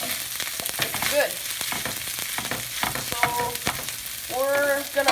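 Fried rice sizzles and crackles loudly in a hot pan, with scraping and stirring sounds throughout and no talk.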